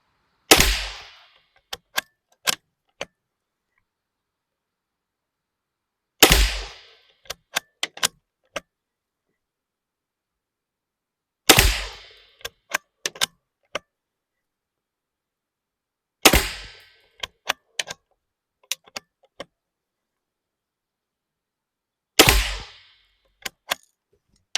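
Five sharp rifle shots from a Romanian M rifle fired at a bullseye target, evenly spaced about five seconds apart, each followed by a few small metallic clicks of the action being worked.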